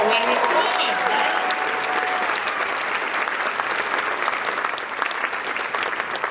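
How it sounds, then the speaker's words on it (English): An audience at an all-county honor band concert claps in a steady, full round of applause, loud and even throughout, with faint crowd murmur beneath. "How about another round of applause?"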